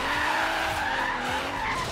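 Tires skid and squeal steadily as a car drifts in Forza Horizon 3, a continuous loud screech over engine drone with no pauses across the whole stretch.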